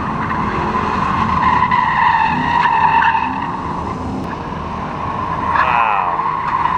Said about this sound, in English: Got some drifting going on.